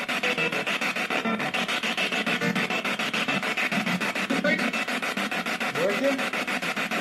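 Frank's box sweeping through radio stations, a constant rapid choppy stutter of static and fragments of broadcast voices and noise, fairly faint and continuous throughout.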